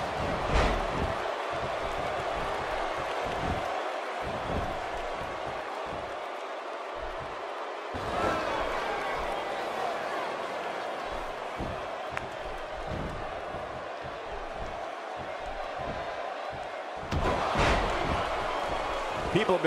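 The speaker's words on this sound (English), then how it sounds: "by the sound of this crowd, I think they're getting what they wanted" Arena crowd roaring steadily throughout a WWE 2K16 wrestling match in a WCW tournament, with loud surges at the start and near the end, slams and impacts punctuating the noise and commentary voices talking over it.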